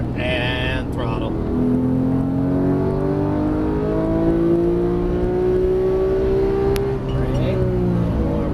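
A Porsche 991 GT3 accelerating on a race track, its engine roaring loudly and climbing steadily in pitch through the gears, heard close from inside the car with a brief cut in power near the end.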